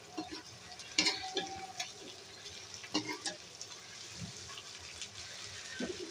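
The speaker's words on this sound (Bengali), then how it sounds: "এখন আমি এই মশলাটা সহ মাংস আলু সহ কষিয়ে নিব" Chicken pieces and potatoes being stir-fried with spices in a pan for a deshi chicken curry, with soft scraping and stirring knocks over a low, steady sizzle.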